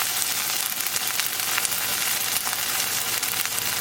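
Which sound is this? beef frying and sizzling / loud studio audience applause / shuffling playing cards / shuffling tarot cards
beef frying and sizzling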